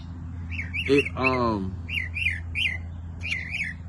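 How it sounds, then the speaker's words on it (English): A bird calls close by with repeated squawks and chirps, one long harsh rasping cry among shorter whistled notes, over a low background hum. "of course this bird want to come by me and make all this noise"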